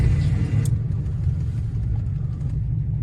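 A 1975 Puma 1600 GTE heard from inside the cabin as its engine catches and settles into a steady, close, low rumbling idle, with a brief sharp click near the start and no talk.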